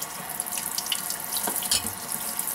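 Tap water running into a sink to rinse cleaned razor clams, a close, steady splashing stream with small drips and clinks throughout the short moment.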